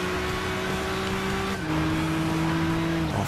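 A car accelerating in the racing video game Gran Turismo 6, with a steady engine drone that shifts pitch at a gear change partway through. The engine stays fairly quiet and even, with no talk.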